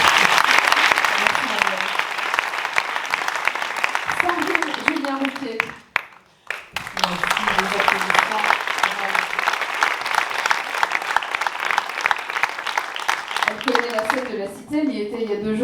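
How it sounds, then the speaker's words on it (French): Applause from an audience at a business forum in Toulouse, a dense sustained clapping that briefly dips and then resumes strongly before fading at the end. "Est-ce qu'on applaudit Marianne Ronquier?"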